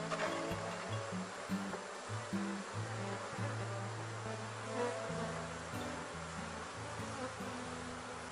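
Honeybees buzzing from an opened beehive, a dense continuous drone of many insects close by, with shifting pitch as bees move around, steady throughout with no talking.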